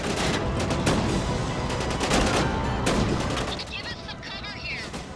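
Sustained gunfire from the action game Syphon Filter: The Omega Strain, loud overlapping automatic bursts that form a steady roar, easing slightly near the end as a voice speaks.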